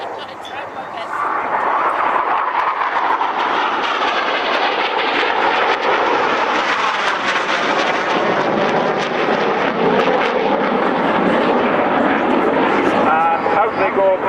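Display aircraft from a synchro pair at an air show roar loudly overhead for the whole stretch, a sustained rushing jet noise that swells and holds with a faint whine in it.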